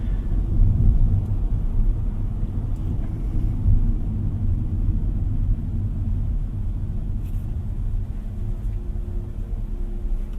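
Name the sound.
road noise inside a Hyundai Stargazer X while driving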